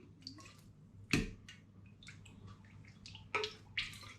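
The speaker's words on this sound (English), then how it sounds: "Stuff that's dripping off this is dripping back into the jug, by the way." Distilled alcohol drips from a poorly pouring jug back into the jug, a few sharp, close drips and splashes at irregular intervals over a quiet background.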